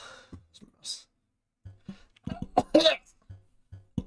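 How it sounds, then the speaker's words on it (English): A gamer playing Rain World: Downpour lets out a quick series of harsh, violent coughs, several sharp close bursts clustered in the second half, with breathy pauses between. "We're just gonna have a quick series of very violent coughs."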